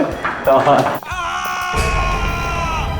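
A man lets out a loud, sustained scream in a Hindi crime drama from the CID television series, briefly piercing through tense background noise and voices.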